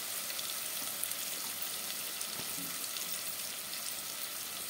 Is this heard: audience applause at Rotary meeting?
no